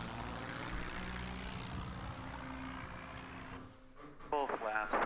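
Propeller aircraft engine held at 1700 RPM on a glide slope approach in the X-Plane 11 flight simulator: a steady, even droning hum, fairly quiet, until a voice starts talking near the end.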